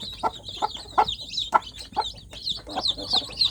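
Repeated high, thin peeping calls from young village chicken chicks in a box, chirping in quick irregular bursts with brief gaps, close by and fairly clear.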